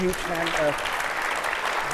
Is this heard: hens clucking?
no